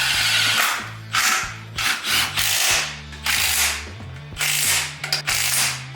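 A ratchet clicks in quick, repeated bursts as supercharger bracketry for a Vortec supercharger is bolted onto a truck engine, with short pauses between strokes and no talking.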